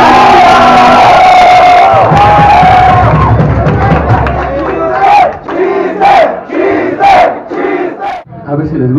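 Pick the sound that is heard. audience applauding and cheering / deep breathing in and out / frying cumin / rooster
audience applauding and cheering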